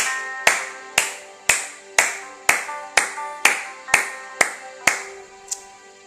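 Congregation clapping in unison during a French-language church service, about eleven sharp, evenly spaced claps roughly every half second, loud and close with a ringing room echo and no voices.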